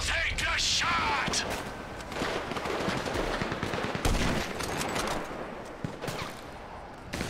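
Loud gunfire in GTA 5 sounds as a mix of sharp single cracks and rapid bursts, with a rifle shot among them, under game action and bits of talk.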